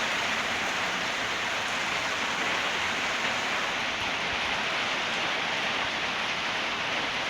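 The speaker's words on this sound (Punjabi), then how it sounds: "ਮੀਂਹ ਬੜਾ ਜ਼ੋਰਾਂ ਸ਼ੋਰਾਂ ਨਾਲ ਪੈ ਰਿਹਾ ਆ" Heavy monsoon rain pours down in a steady, dense hiss of drops hitting surfaces, constant and close for several seconds with no talking.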